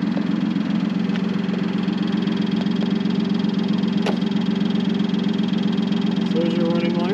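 The 2912cc inline-6 of a 1960 Austin Healey 3000 MK1 idles steadily and close by, a smooth, even rumble with a faint rhythmic pulse that stays constant throughout, with a brief click partway through.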